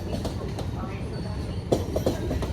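The Bengawan economy train, pulled by locomotive CC 203 40, rolls past Lempuyangan station in Yogyakarta with a steady rumble and rhythmic wheel clatter on the rails, a few louder clacks, and a person talking over it.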